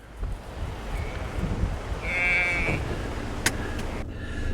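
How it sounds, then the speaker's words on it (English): A sheep bleats twice outdoors, one drawn-out call in the middle and a shorter one near the end, moderately close, with wind rumbling against the microphone. "Sheep don't want to be here anymore."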